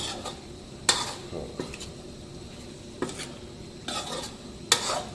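Beef stir-fried with curry paste, long beans and eggplant is stirred in a pan, with soft scraping and a light sizzle broken by several sharp utensil clinks against the metal.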